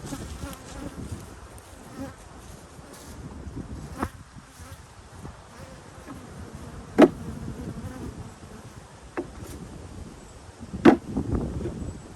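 Honeybees buzz steadily around the listener at the hives of an apiary, with a few louder individual bees zipping close past the microphone, no talking.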